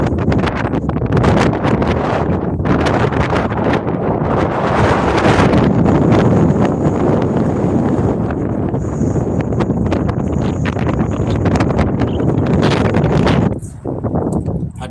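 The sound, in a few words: strong wind blowing outdoors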